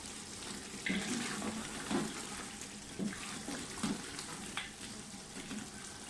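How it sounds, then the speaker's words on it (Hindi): Chicken frying in a pot for Sindhi biryani, a steady close sizzle with bubbling and periodic louder bursts as it is stirred, no voices. "चिकन जो है वो हमारा काफ़ी हद तक गल चुका है, मतलब इसकी भुनाई कर लें अच्छी तरह से।"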